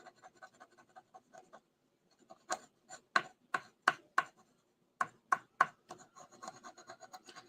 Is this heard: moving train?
no